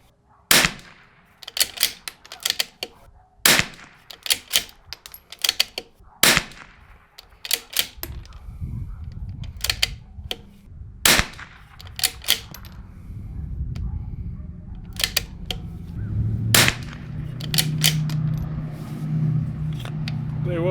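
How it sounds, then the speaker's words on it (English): A Bergara B-14R .22LR rifle fires from a bench at 50 yards: sharp, evenly spaced cracks sound close, about a dozen in a row, with low rumble and handling noise between them. "So we're going to go ahead and shoot our 3 bench groups at 50 yards."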